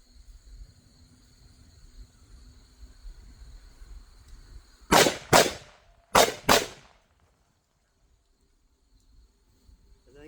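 Gunfire at targets during a ZERT training drill comes as four sharp shots in two quick pairs, loud against a quiet outdoor background with a steady insect drone.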